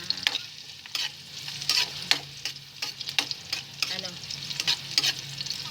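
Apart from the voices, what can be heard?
stirring food frying in a pan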